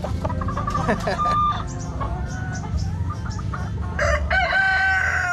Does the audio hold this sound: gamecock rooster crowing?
yes